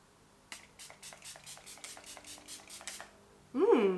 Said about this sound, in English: So now I'm gonna finish off my face with this setting spray.